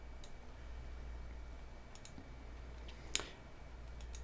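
A single sharp mouse click while opening a drop-down menu in a software interface, faint tick against a low steady hum, with a couple of softer clicks earlier.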